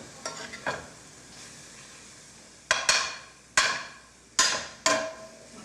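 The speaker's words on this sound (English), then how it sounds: "let me stir that dried parsley down into this thing that we got here" A spoon stirs dried parsley into a sauce in a pot, giving a series of sharp scraping clinks and splashes, close and fairly soft, with quiet gaps between strokes.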